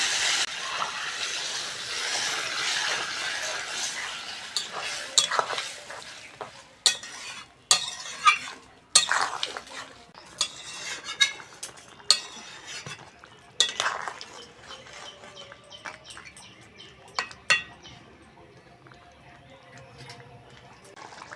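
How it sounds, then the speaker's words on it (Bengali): Crab curry stir-fried in a pan, a soft sizzle at first followed by a series of sharp metallic clanks and scrapes of the spatula against the pan, fairly quiet overall. "ভালো করে কষে নিয়েছি। এবার জল দিয়ে দেবো।"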